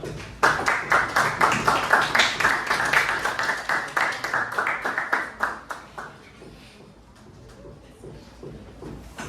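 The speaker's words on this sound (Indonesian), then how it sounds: "boleh ya kita beri tepuk tangan nih untuk kelompoknya David ya, maju ke depan." A classroom audience claps for a presenting group, the sharp, dense clapping loud and close for several seconds before thinning out and fading into quieter room noise.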